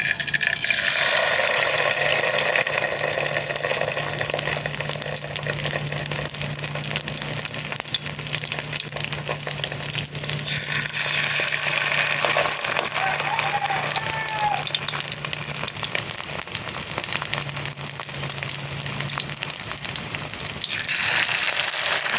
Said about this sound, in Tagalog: piprito na tayo